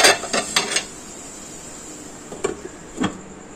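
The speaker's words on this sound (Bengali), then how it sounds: "ঢাকনা দিয়ে দিলাম" A lid goes onto a cooking pan of jeera aloo fry with a quick cluster of metallic clanks and rattles, then two softer taps a moment later, close and clear with no voices.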